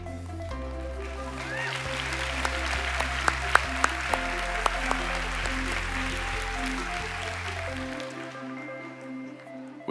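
A crowd at a college commencement claps and applauds steadily for master's degree graduates while sustained organ-like music plays underneath, with a few sharper claps standing out before fading.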